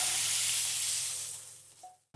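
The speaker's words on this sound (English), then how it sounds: "We'll just do a really quick saute." A quick sauté hisses loudly in a pan, then the bright sizzle gradually fades before cutting off abruptly.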